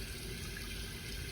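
Water streams steadily from the spray of a solar supplementary smart shower panel, a soft continuous hiss and splash with no pauses or voices.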